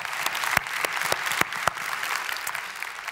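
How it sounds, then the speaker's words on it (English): Audience applause for a panel at the close of a church gathering: steady, moderately loud clapping from a seated crowd, with a few sharper claps standing out and no speech over it. "would you all just give those on the panel just a round of applause for being here?"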